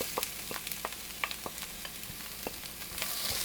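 Sweet peppers sizzle in a hot frying pan, a steady crackling hiss with scattered sharp pops and occasional stirring clicks.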